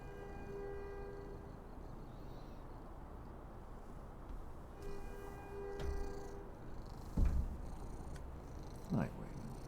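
A cat purring in someone's lap, a low soft rumble beneath quiet background tones, with a few brief thumps and a voice breaking in near the end.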